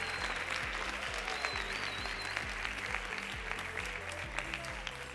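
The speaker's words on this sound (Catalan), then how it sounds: "intentar un fort aplaudiment per a ells" An audience gives applause for a school team at a spelling quiz show, with steady, rapid clapping heard at a distance over a low rhythmic background.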